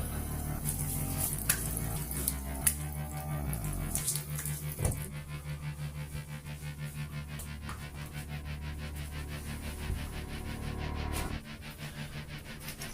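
Water runs steadily from a bathroom tap as a razor is rinsed under it, a continuous close splashing hiss with a few sharper clinks and knocks early on, easing off near the end.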